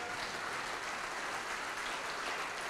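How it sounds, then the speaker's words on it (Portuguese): A church congregation applauds during a sermon, a steady dense wash of clapping from many hands filling the room without a break. "Vamos aplaudir ao nome de Jesus."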